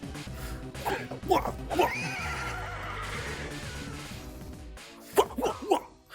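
A video game horse whinnies in a long, wavering neigh, a sound taken from Harvest Moon games, framed by short snorts and thumps, with a voice speaking briefly around it.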